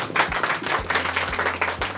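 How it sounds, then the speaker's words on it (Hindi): A small workshop audience claps in a cinematography class, a short burst of scattered hand claps at close range, fairly loud and uneven, with no voices over it. "तालियां हो जाए इस बात पे तो यार।"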